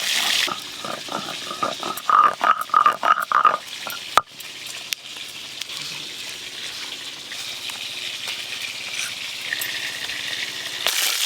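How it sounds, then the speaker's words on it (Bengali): Small fesa river fish fry in a pan with a steady, close sizzle that crackles and spits. Stirring and clattering break in early, then it settles into an even hiss. "এই মাছগুলো ভেজে নেব।"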